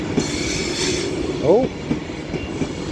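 A Class 390 electric train pulls out of Stockport station on the West Coast Main Line, a steady rolling rumble with a brief wheel squeal and clicking over rail joints, while a voice speaks briefly.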